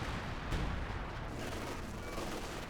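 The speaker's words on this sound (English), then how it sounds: "And he fired all the Sextons against us." Sexton self-propelled artillery firing in Company of Heroes 2, a dense, continuous barrage of booming gunfire and blasts layered over battlefield noise, loud and steady throughout.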